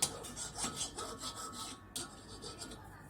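A hand file rasps back and forth across an edge to smooth it, in a series of close, rhythmic scraping strokes with a short pause midway.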